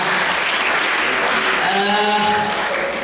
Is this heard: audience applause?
yes